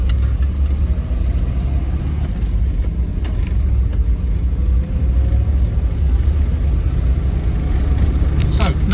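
A Land Rover 90 V8 CSW driving along with its engine running, a steady close rumble with mild rises in revs under constant road and cabin noise throughout.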